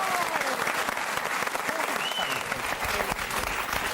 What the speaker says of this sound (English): A round of applause for our shepherd, Cal Wilson.